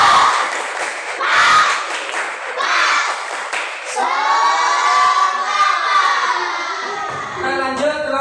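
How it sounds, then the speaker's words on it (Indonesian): A group of children in a classroom clap a rhythmic spirit clap (tepuk semangat), quick claps under lively shouting and cheering voices, later giving way to sustained tonal voices near the end. "Tepuk semangat."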